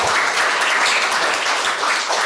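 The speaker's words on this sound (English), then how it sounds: "let's do a huge round of applause as we begin Kabir Jayanti Quiz" Loud, dense applause from a school audience at the opening of a primary school quiz, a continuous wash of many hands clapping throughout.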